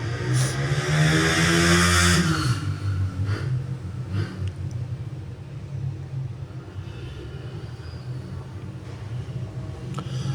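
A motorbike engine revs hard on a rocky off-road mountain track, loud at first and then fading to a low rumble with scattered knocks and crunches.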